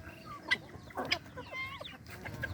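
Chickens forage on the ground, giving a few short clucks and soft calls up close, with scratchy ground noise between them.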